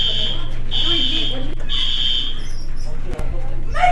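A school fire alarm sounds after a kid pulls it: a loud, shrill electronic tone pulsing in long on-off bursts over a steady low hum, with scattered voices and commotion around it.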